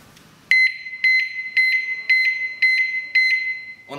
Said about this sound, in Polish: Ona wydaje kilka dźwięków, że alarm został aktywowany.